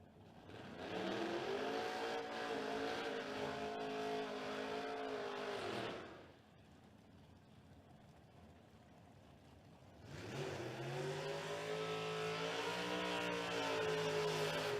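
Race cars at a creek racetrack event accelerate in loud, rising engine drones heard from a distance, one run fading out midway before another car's revving climbs back in.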